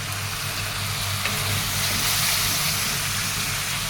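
Spices with turmeric and green chilli fry in a pan before fish goes in, giving a steady, close, broadband sizzle that holds evenly throughout with no talk.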